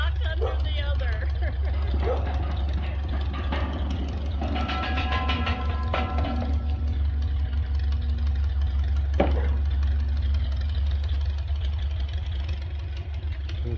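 An Allis Chalmers 15-25 tractor engine idles with a steady, low, even rumble throughout, with faint voices and small clanks in the background.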